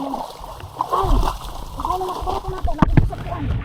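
Floodwater splashing and sloshing during the first day of a flood, with choppy irregular splashes close by under someone talking throughout.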